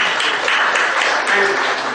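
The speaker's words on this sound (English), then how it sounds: "Round of applause." Audience at a mutual funds and equities talk at an institute giving a round of applause, a steady dense clapping wash held at even loudness for the whole stretch, with no talk over it.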